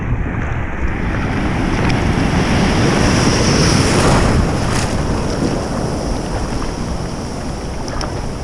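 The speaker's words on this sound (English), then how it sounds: "All those little noises, my arms paddling, everything." Arms paddling a longboard surfboard through ocean water, splashing strokes against a constant wash of surf and wind noise, no voices.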